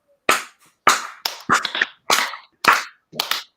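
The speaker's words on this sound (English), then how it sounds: "So let's get them 5 claps" A group of kids and adults at a scholars tournament claps in unison seven times, each clap sharp and loud with a short decaying tail, spaced evenly with brief silent gaps.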